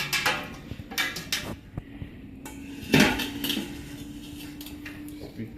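Pots and pans clanking and knocking in a home-brewing setup as a brew pot is set back in place, with a louder metallic thump near the middle and scattered clatter before and after.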